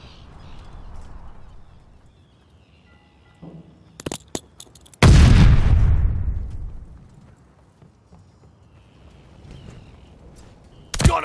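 Explosion from a glide bomb strike in the video game Call of Duty: Vanguard: a sudden loud blast with a long rumbling decay, preceded by a few sharp cracks of gunfire and followed by quieter battle ambience.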